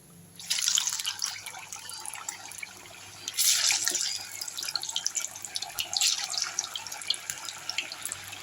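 Sago vadas drop into hot peanut oil in a kadai and fry with a loud, close, crackling sizzle that swells in bursts as each batch goes in, then keeps bubbling and spitting without speech.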